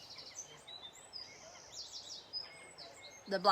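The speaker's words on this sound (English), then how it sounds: "you can hear the nice birds singing too." Several birds chirp and sing in short, scattered high phrases over a quiet outdoor background, with a brief louder rustle near the end.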